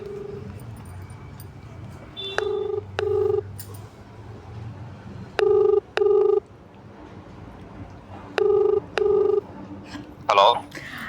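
Telephone call being placed: three pairs of short, bright ring-back tones spaced through the clip over a quiet room, ending in a brief crackle as the line connects.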